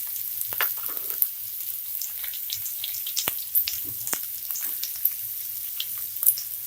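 Chopped onion and garlic fry in a pan for chicken sukka, giving a steady close sizzle with scattered pops and crackles and no talking.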